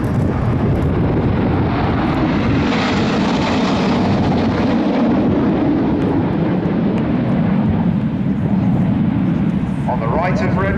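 Red Arrows jets roar through a flying display with smoke at the Royal International Air Tattoo, a loud, sustained, wind-buffeted engine rush that swells and fades, with a voice talking over it.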